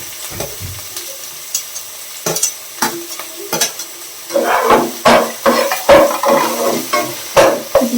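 Chopped onion and onion greens frying in a pan with a steady sizzle, broken up by repeated scraping stir strokes that grow busier and louder partway through, close up with no talking.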